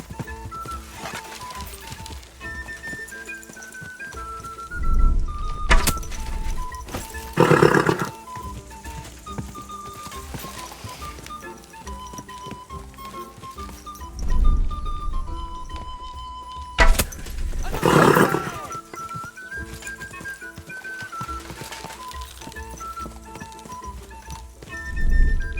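Horse hooves clip-clopping in Kingdom Come Deliverance 2, with occasional whinnies among steady game music and ambience, recurring over a long stretch at moderate loudness.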